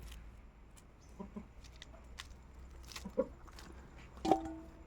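A few faint, short clucks come from a backyard chicken, spaced out over low background noise, with a slightly stronger cluck near the end.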